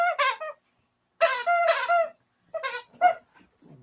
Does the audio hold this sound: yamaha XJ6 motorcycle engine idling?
no